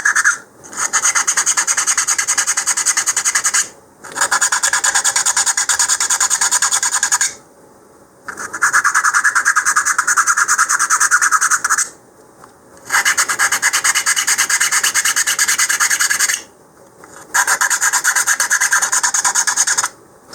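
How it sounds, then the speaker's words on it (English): A hand file rasps back and forth through a tight hole in a LOC Precision 2.2-inch rocket avionics bay, loud and close, in five long rhythmic strokes separated by short pauses, with no talking. "so we just file that out."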